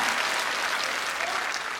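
Sustained applause from an audience at a religious festival gathering, dense steady clapping throughout with no break, at moderate level.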